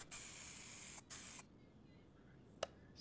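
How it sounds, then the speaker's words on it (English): Spray paint hisses onto a rusty car in a car-repair video game: two sharp, close bursts, then a brief third puff after a quiet pause. "Okay, it's all sprayed."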